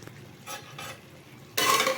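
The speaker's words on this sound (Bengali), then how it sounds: "এবার এটাকে ভালোভাবে কষিয়ে নেব খুব ভালোভাবে এটাকে আমি কষিয়ে নিচ্ছি" Watermelon peel curry with yogurt is stir-fried in a pan, heard as a few soft scraping strokes followed by a sudden louder surge of sizzling near the end.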